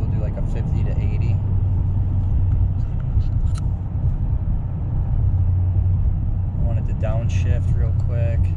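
An L5P Duramax diesel pickup truck with a performance tune accelerates hard on the road, heard from inside the cab as a steady, loud, low engine drone with road rumble, while people talk throughout.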